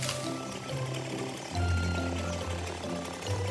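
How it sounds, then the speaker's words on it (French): Cartoon chainsaw cutting a branch, a steady buzzing motor drone that shifts pitch as the cut bears down, loud and continuous over a short stretch with no talking. "Le chariot élévateur a apporté une tronçonneuse. Il commence à scier très prudemment, petit à petit."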